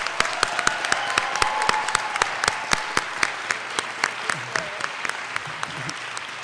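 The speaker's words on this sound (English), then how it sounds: "give a round of applause to our beautiful performers" Crowd at a college Martin Luther King Jr. Day convocation applauding performers, a sustained wash of clapping punctuated by loud, rhythmic, evenly spaced claps, with whoops and voices mixed in throughout.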